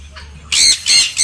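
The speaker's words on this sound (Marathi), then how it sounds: "बदक" A duck squawks three times in quick succession, loud, harsh and close, after a quiet start with low background hum.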